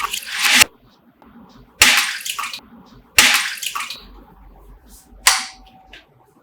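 A Motorola G52 phone is dunked in chilled water, with repeated bursts of splashing and sloshing, three sharp plunges in quick succession followed by a fainter one, with quieter dripping between.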